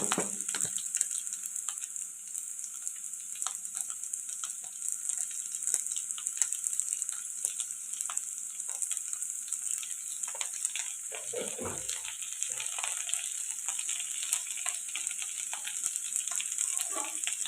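Carrots and potatoes fry in a pan for a quick lunch-box dish, giving a close, steady, hissing sizzle that runs throughout, with occasional stirring scrapes and clatter around the middle.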